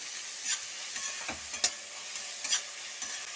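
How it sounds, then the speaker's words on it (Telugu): Salt, black and white pepper powders and garam masala get stirred together in a sizzling pan for gobi manchurian, a steady close hiss broken by a few brief scraping strokes. "ఇప్పుడు ఇవన్నీ కలిపేసుకోవాలి"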